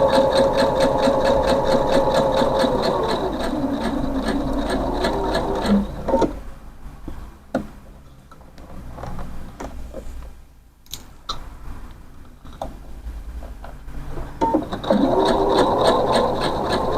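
A sewing machine stitches a rounded hem in a loud, steady mechanical whir with a fast regular needle rhythm, pausing midway to near quiet with small handling sounds before the stitching resumes up close.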